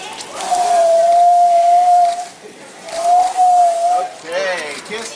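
A walrus gives long, steady whistles on a trainer's cue at a marine park show, two sustained tones followed by a shorter wavering one, loud and close.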